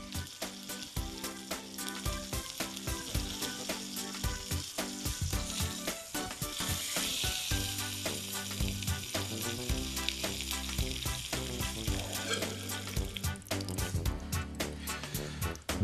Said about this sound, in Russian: Сковородку раскаляем и обжариваем курицу со всех сторон до появления желаемого цвета.